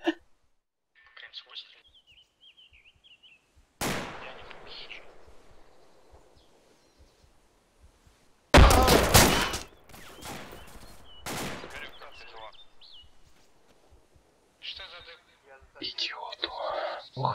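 Bursts of PKM machine-gun fire ring out in the ArmA 2 ACE military game, separated by quiet gaps, with a long, loud volley in the middle and voices talking over parts.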